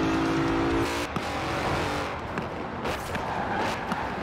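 Loud racing engine of a Mercedes-AMG GT 63 S in Forza Horizon 4, a held rev note breaking into rough, broadband engine noise with tire squeal and passing rushes, no voices.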